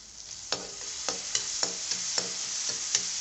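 Boiled food stir-fried with half a teaspoon of salt in a pan sizzles steadily while a utensil scrapes and taps against the pan in a regular rhythm, close and clear with no talk.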